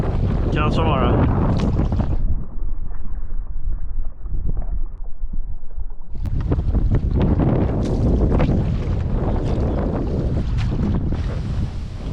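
Strong wind at sea roaring over the microphone while sea kayaking among waves, loud and continuous with a brief lull midway and people talking under it.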